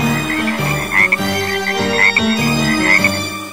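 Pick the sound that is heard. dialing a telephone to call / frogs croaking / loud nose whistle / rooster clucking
frogs croaking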